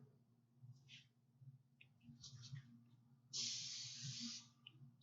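Cooking spray hisses from a can onto bread dough in a pan for Viennese bread, one steady burst of about a second and a half near the end, following quieter short sprays, with a low room hum beneath.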